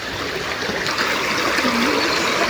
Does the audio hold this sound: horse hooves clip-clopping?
no